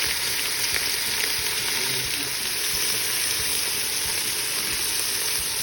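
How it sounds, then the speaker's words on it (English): Oxtail stirred in a pressure cooker for a Jamaican oxtail and broad beans dish, a steady loud sizzle and frying hiss throughout with faint scraping of the stirring, no voices. "Now I'm stirring in my pressure cooker"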